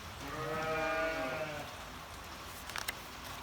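A lamb on a farm lets out one wavering, drawn-out bleat, near and fairly soft, followed by a couple of faint knocks against quiet outdoor background.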